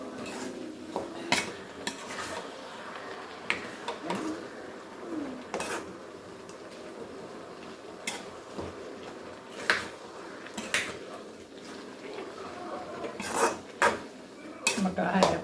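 A spoon stirs curry leaves and a coconut, onion and pepper paste into a jackfruit dish in a pot, with repeated scraping and metallic clanks at an uneven pace and birds calling faintly in the background.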